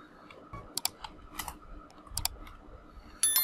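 Keys tapped on a computer keyboard to enter a search phrase, a few separate close clicks and short bursts with pauses between, ending in a louder cluster.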